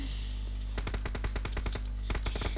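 PUBG gunfire rings out as two loud bursts of rapid automatic shots over a constant low game rumble, with a short pause between the bursts.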